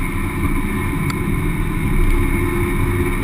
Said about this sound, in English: Just listening away to the revs in that car.